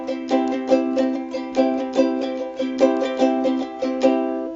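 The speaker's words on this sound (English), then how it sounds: "So I'm doing all triplets there." Ukulele strummed in quick, steady triplets, a down-up pattern with about fourteen even strums over a few seconds, close and bright with no talking.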